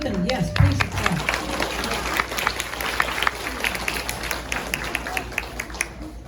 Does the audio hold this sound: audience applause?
yes